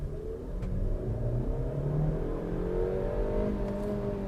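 A Maruti Victoris car accelerates steadily, its mid-pitched engine drone and road rumble close and continuous, with a slight shift in engine note partway through as the automatic gearbox changes up.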